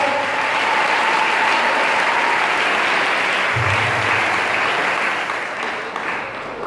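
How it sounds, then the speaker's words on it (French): A church congregation applauds and cheers for Jesus during a sermon, with a dense, continuous roar of clapping and voices that holds steady throughout and thins slightly near the end. "une acclamation au Seigneur Jésus"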